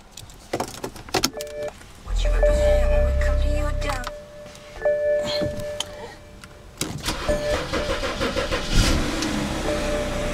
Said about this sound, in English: BMW 328i. Well, that one started up a little slow.